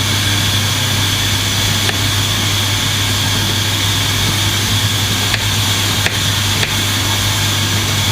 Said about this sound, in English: Excuse the noise of the pressure cooker if it's